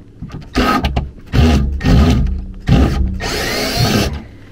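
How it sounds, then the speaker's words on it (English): A cordless power drill set to high torque backs screws out of an HVAC zoning damper installation in a series of loud whirring bursts, four or five spurts separated by brief pauses, close to the listener. "Higher torque on the drill."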